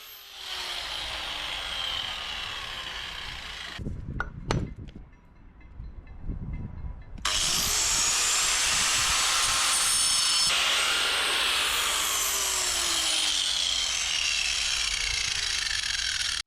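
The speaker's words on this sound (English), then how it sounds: "I need to cut a few of the concrete blocks." A power tool with a concrete cutting disc cuts concrete blocks for a house foundation, giving a loud, sustained grinding whine that stops briefly for a few knocks and scrapes, then resumes louder.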